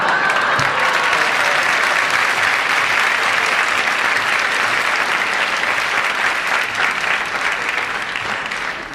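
Sustained, loud audience applause fills the whole stretch, a dense wash of clapping that stays even throughout.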